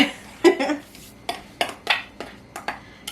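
A utensil clinks and scrapes against a bowl while sweet onion dip is stirred, giving a series of sharp, irregular taps close by with no speech.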